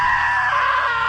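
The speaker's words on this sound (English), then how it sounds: "Now that was a great scream." A character in the video game What Remains of Edith Finch lets out one loud, sustained scream, close and piercing, heard alone.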